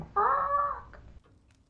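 A chicken sound effect in a TV comedy drama, one short nasal squawk-like cluck heard clearly and alone, followed by a faint click.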